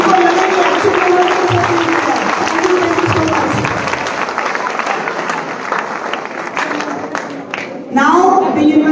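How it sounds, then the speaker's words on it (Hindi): A hall audience at a university sports awards ceremony claps for student national trophy winners, loud continuous applause with voices mixed in, easing off before a sharp burst near the end. "इस हॉल में इतनी जोरदार तालियां बजाइए इन बच्चों की हौसला अफजाई के लिए"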